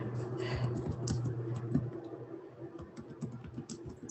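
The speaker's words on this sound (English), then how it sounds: "I'm typing." Steady clicking of typing on a computer keyboard during an online meeting, irregular keystrokes close by over a low background hum, with no talking.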